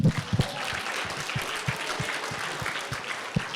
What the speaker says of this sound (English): Will you guys give me a round of applause?